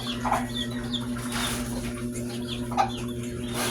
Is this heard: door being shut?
no